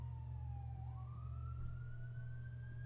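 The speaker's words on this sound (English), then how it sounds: "I wonder if you can hear the sirens going off in the streets." Emergency vehicle sirens wail in the street, a steady rising and falling tone heard at a distance over constant low traffic rumble, with no talking.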